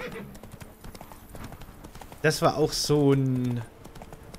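Horse hooves clip-clopping in The Witcher 3: Wild Hunt – Blood and Wine, followed by a loud, drawn-out neigh, with someone talking briefly and quiet tapping of keys beneath the game sounds.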